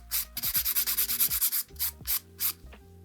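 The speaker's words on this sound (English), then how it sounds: "when I'm filing, I'm going to file the sides, and I'm going to keep my file quite flat" Nail file rubbing flat across the sides of a fingernail during a manicure, a close, loud run of quick rhythmic strokes, about a dozen in a row, then a few slower separate passes, with no talking.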